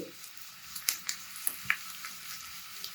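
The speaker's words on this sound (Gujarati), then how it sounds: "અને છાશનું જે ખીરું પાથર્યું છે થાળી પર, આપણે એની ઉપર વઘારને રેડી દઈશું" Hot tempering hisses and sizzles faintly as it is poured over buttermilk and flattened rice batter spread on a plate, with a few small crackling pops, quiet and brief.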